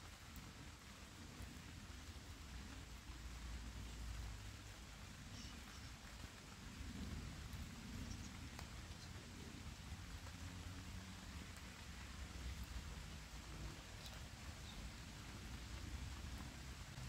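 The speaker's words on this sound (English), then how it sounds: "So it's actually just started to rain" Rain falls in the woods with a soft, steady, even hiss of light drops, quiet and continuous with no voices.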